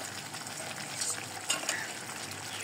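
New potatoes stir-fried with country chicken in a clay pot: a steady, close sizzling hiss with a few louder scraping stirs near the end, and no voices.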